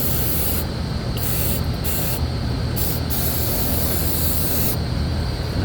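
Flat black spray paint hisses from an aerosol can onto car parts for a 1961-1975 Cadillac air ride and control arm job, loud and close, in several bursts with short pauses between them.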